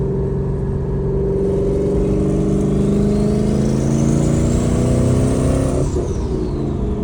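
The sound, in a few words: car engine revving during a downshift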